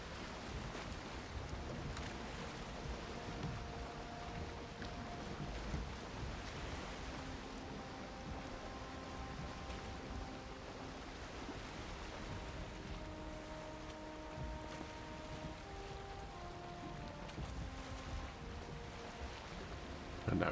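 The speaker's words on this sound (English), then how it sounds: "It's raining again." Steady rain in the video game Valheim, a continuous broadband hiss mixed with wind and a low tonal music bed, unbroken for the whole stretch with no talking.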